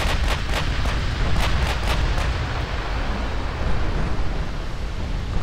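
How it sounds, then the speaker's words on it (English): Naval guns fire in a warship battle in Ultimate Admirals: Dreadnoughts, with a barrage of heavy booms and cracks over a continuous rumbling roar. The shots come as several sharp reports early on, then blur into constant loud, dense noise. "we're just getting peppered with all sorts of shots"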